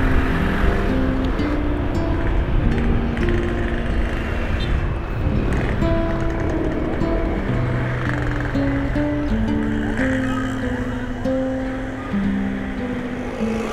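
A Motor King motorbike engine pulls steadily uphill through jammed traffic on the way to Puncak in drizzly weather, a continuous close drone mixed with surrounding road and vehicle noise.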